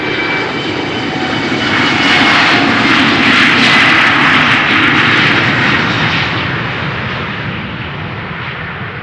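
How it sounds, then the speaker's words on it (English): A Boeing 747 jet departs from runway 36L at Amsterdam Schiphol Airport, its loud engine roar swelling and peaking near the middle, then slowly fading as the aircraft climbs away, with no voices. "we will see another duo of 747 followed by Embraer 175 in a few moments"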